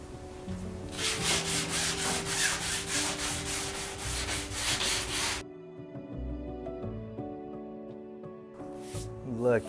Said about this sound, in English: I sanded everything nice and smooth